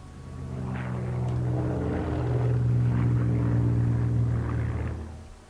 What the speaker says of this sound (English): Forgive me for talking over Spitfires and Hurricanes.